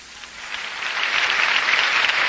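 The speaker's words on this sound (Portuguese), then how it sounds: "Uma salva de palmas ao Senhor" A congregation at an evangelist's church service in Portland's civic auditorium claps together, the applause swelling from moderate to fuller and louder over a couple of seconds, with no talking.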